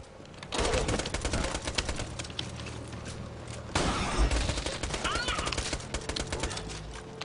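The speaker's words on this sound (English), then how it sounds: "Oh, I hate freaking early SMGs." Submachine gun fire in the Borderlands 2 video game: dense, rapid bursts of gunfire with a sharp break partway through, loud and continuous over game sounds and music, with some speech mixed in.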